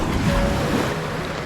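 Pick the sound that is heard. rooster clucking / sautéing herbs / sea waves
sea waves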